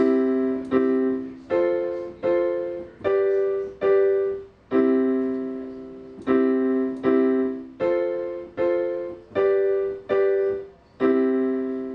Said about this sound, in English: 1, 4, 5 is probably the most common progression in all of music